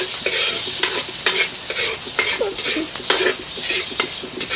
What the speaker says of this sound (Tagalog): Saute your onion.